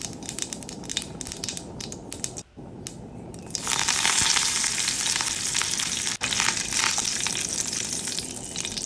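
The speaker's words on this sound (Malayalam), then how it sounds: "കടുക് ഒന്ന് പൊട്ടിക്കഴിയുമ്പോൾ അതിലേക്ക് കുറച്ച് വേപ്പില ആഡ് ചെയ്ത് കൊടുക്കുക." Curry leaves crackle and sizzle loudly in hot oil with mustard seeds in a pan, a dense frying hiss that swells after a few seconds and carries on steadily, with no voices.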